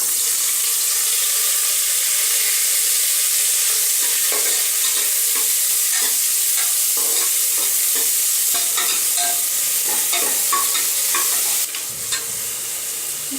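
Whole spices such as cinnamon, cloves and bay leaf sizzle steadily in hot oil for prawn biryani, a continuous close frying hiss with occasional stirring scrapes and clinks, no talking.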